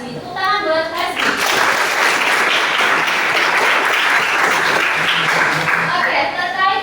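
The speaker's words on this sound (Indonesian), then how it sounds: "Tepuk tangan buat Hasbi." Classroom of high-school students applauding a classmate, a burst of dense clapping that swells quickly and holds steady before tapering, with a teacher speaking at the start and end.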